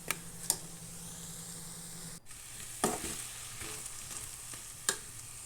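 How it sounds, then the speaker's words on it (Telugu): Drumstick (moringa) pieces frying in a little oil make a steady, soft sizzle with a low hum beneath, broken by a few sharp stirring clinks and scrapes spaced through the stretch; no voices. "ములక్కాడ కొంచెము ఆయిల్లో మనం వేపుకున్నాం"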